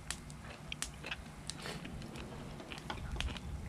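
Someone chews spicy food at a minimalist campsite, giving close, crisp crunching and biting clicks in an uneven rhythm, with soft outdoor background noise.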